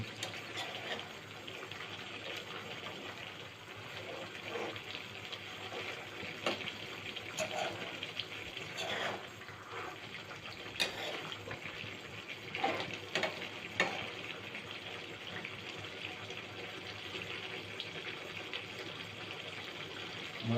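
Pork and potatoes simmer in a pot for a tribal-style pork dish, a steady low bubbling and sizzling that runs continuously with small stirring clinks and no talk.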